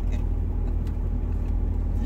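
Rush-hour traffic sits jammed on the road home, a steady low engine rumble from nearby cars idling and creeping, continuous and even without any break.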